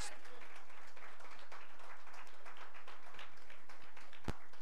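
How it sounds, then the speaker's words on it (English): Church congregation clapping their hands in praise during a worship service: a steady, dense wash of applause that stays fairly quiet and distant throughout, with one sharp louder clap near the end. "If you believe it, clap your hands and give God door."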